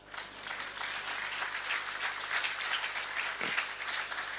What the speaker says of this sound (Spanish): Un aplauso acá, mínimo.